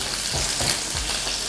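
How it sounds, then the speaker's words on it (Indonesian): Galangal and bay leaves stir-fried in a pan make a steady, close sizzle with soft scraping of a spatula, with no voices. "Kita aduk sampai aromanya keluar ya, sampai harum."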